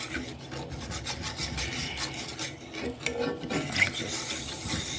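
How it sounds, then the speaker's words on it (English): Scratch-made gravy being stirred in a pan on a stove, a continuous close scraping and rasping of the utensil against the pan with uneven rhythm, heard alone without talk. "So let's start stirring,"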